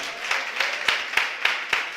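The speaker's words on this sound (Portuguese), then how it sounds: "você pode aplaudir o Senhor" A church congregation claps together in a steady rhythm, sharp repeated beats about every quarter second over a broad, diffuse wash of hands, fairly close and loud with no voices.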